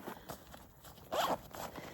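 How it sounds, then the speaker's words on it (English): A zipper runs on the small front pocket of a hiking backpack packed for a Swiss Via Alpina trek, one quick close pull over a quiet background. "And then there's one more sort of like front smaller zip pocket."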